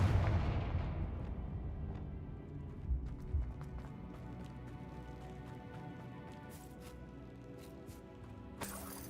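Confringo and Bombarda blasts in a Harry Potter video game, a loud opening explosion decaying into rumble, followed by further thuds and sharp cracks, with a bright burst near the end.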